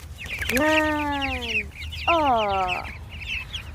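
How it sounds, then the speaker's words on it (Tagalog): Backyard chickens in an urban garden in Canada, two drawn-out rising-and-falling calls standing out over scattered soft clucks, close by, with a brief spoken word at the start. "Yan yung aking mga manok."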